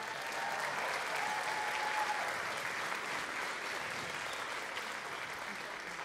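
A large audience at a Mr. Battle Ground 2019 pageant gives sustained, even applause for a judge, a dense continuous roar of clapping heard from within the crowd with no clear talk.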